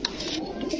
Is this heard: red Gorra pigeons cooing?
yes